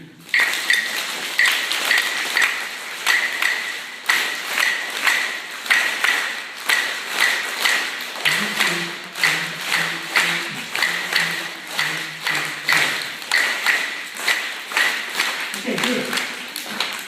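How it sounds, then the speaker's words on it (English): A steady, regular 2-3 clave rhythm of sharp wooden taps from two claves struck together repeats throughout, with a voice speaking briefly over it in the middle and near the end. "Two pieces of wood like this that I hit together."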